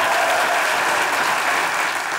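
A studio audience on the Turkish comedy show Çok Güzel Hareketler 2 gives a couple loud, continuous applause, thick and unbroken with no voices over it.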